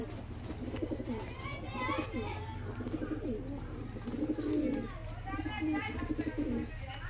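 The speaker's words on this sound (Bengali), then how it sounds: "এরকম ভালো কোয়ালিটির পায়রা আছে, মাদা পায়রা" Female (mada) pigeons of good quality cooing in low, rolling calls over a steady background hum, with occasional chirps and restless movement throughout.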